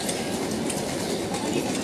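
A Melbourne Yarra Trams D-Class tram passes on rails at the Flinders Street Station stop, a steady close rumble of wheels on track with faint clicking.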